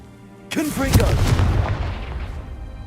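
A Confringo blasting spell in Hogwarts Legacy fires with a sudden loud explosive boom that then rumbles and crackles away, with a brief tonal whoosh at the onset.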